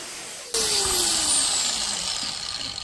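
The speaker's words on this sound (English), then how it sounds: "I'm just going to cut it there with a grinder" An angle grinder cuts through the burnt front fender of a 2000 GasGas TXT280 trials dirt bike, starting abruptly with a loud, steady high whine that drops slightly in pitch as the disc bites in.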